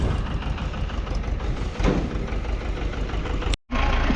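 A tractor engine idles nearby with a loud, steady low rumble and a knocking texture, continuous apart from a brief dropout near the end.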